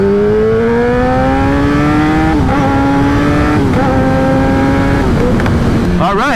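Kawasaki ZX-10R motorcycle engine droning at mid revs while riding, pitch rising steadily between gear shifts, loud and close over wind rumble, with a voice talking over it.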